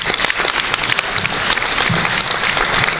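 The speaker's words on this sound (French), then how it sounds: "demander qu'on applaudisse" Loud, close audience applause at a real estate event, dense irregular clapping with sharp individual claps standing out, continuous for a few seconds without talk.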